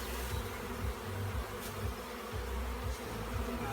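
A swarm of bees buzzes steadily throughout, a dense continuous drone with slight wavering in pitch and volume, fairly close and with no talking over it.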